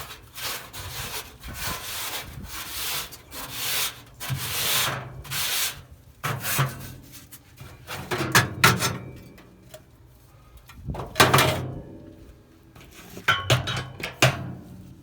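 A small scraper cleans a Weber SmokeFire pellet grill, making rough rasping strokes that come in uneven bursts with short pauses between them, close up and with no talk.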